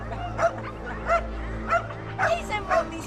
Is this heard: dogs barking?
yes